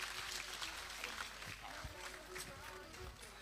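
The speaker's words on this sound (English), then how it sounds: "Please, another round of applause" Audience applause at a Northern Ghana development conference, steady broadband clapping filling the room throughout, fairly faint with a few low thumps and murmurs mixed in.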